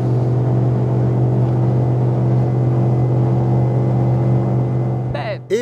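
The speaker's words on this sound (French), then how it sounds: "j'ai bien envie d'entendre gazouiller ce 8 cylindres" A Cranchi E26 Classic motorboat's eight-cylinder engine drones loudly and steadily at high revs, a dense continuous roar with water and hull noise, ending in a brief squeal-like burst.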